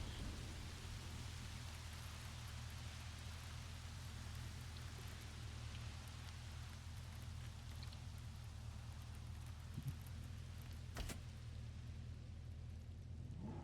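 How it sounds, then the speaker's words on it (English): In Jurassic World Evolution, a heavy thunderstorm brings steady, dense rain hiss throughout. There is a faint rumble of thunder and a sharp crack near the end. "So I'm going to attempt to bring in heavy thunderstorm."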